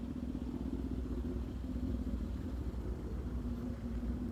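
A BMW S1000RR motorcycle rolls past with a steady, close engine rumble and low drone that holds evenly throughout, with no talking.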